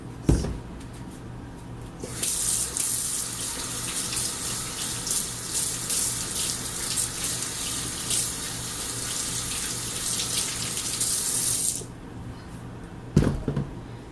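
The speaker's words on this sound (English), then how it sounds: "before we start anything, we're going to need to wash our hands" Hands are washed under a kitchen tap; the water runs steadily for about ten seconds, with a cupboard-like clunk just before and after and no speech.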